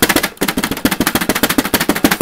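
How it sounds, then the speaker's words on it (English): Fireworks go off at a professional wrestling event, a rapid loud string of sharp cracking bangs in quick, fairly even succession, dense and close with no voices over them. "Fireworks going off right now!"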